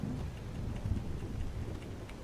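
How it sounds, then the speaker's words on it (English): Thunder rumbles low and steady beneath a constant hiss of rain in a Skyrim game storm, filling the scene without any voices. "That is what you call lightning."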